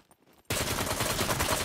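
An enemy gunshot in a death-maze video game, a sudden loud burst of rapid gunfire breaking a near-silent moment and continuing as a sustained, dense volley.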